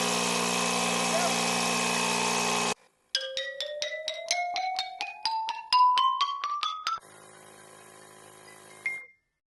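A power drill is used to ream a punctured tire for a plug repair, a steady loud whir that rises in pitch across a few seconds, between bursts of louder broadband noise, close to the microphone.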